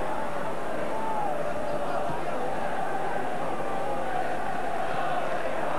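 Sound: huge football crowd at Ibrox stadium

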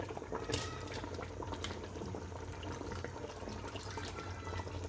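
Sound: rice being poured into boiling water for chicken biryani

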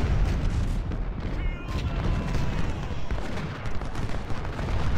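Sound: cannon artillery fire in the video game Ultimate General: Civil War

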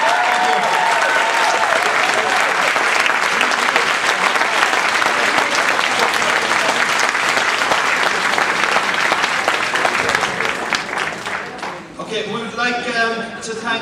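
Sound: audience applause

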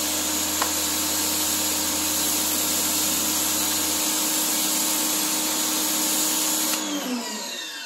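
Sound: Stihl RE 90 pressure washer spraying with rotary nozzle

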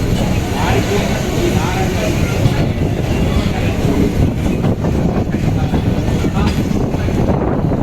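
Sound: train arriving at railway platform

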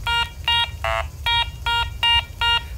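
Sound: Garrett ACE 400i metal detector tone signal on a coin

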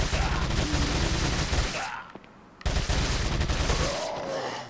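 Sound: TMP submachine gun firing in Resident Evil 4 video game

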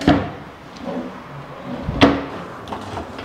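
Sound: kitchen drawer being opened or closed

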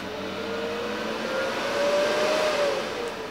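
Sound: Miller Multimatic 220 welder cooling fan running briefly after switch-off

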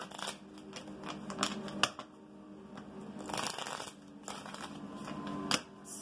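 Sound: shuffling and drawing tarot cards

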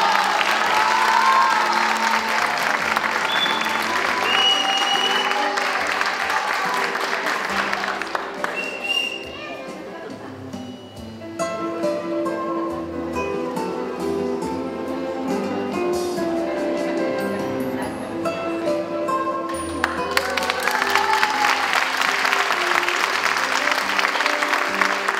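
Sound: applause for a teacher at a ceremony

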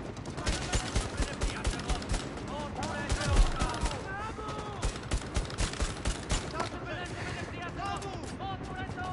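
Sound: gunfire in the video game Bravo Team

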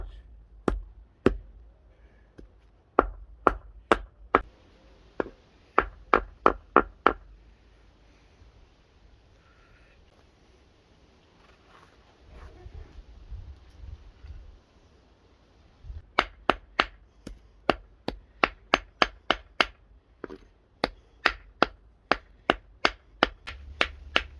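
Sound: crushing plant stalks and leaves on a cloth

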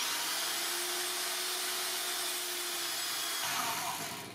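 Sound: drilling a hole in brass

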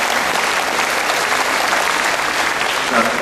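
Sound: audience applause at an orchestra concert

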